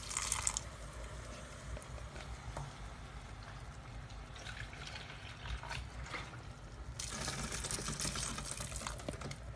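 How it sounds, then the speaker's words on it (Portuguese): Water poured into a cooking pot over a stove flame, a soft broadband splash and trickle running steadily and growing louder toward the end, close by with no talk. "E vou pondo um bocadinho d'água."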